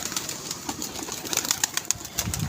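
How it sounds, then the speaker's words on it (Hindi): A pigeon from a pigeon club takes off and flies, its wings flapping in a run of quick soft claps over steady outdoor noise, with faint bird coos now and then. "ये जा रहा है कबूतर"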